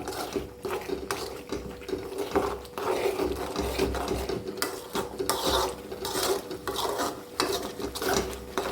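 Crab stirred in a pan for a crab roast: a steady, busy scraping and clattering of the spoon and shells against the pan, close and continuous with no pauses.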